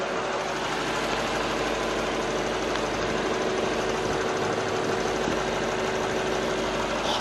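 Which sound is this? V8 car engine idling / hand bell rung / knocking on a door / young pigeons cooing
V8 car engine idling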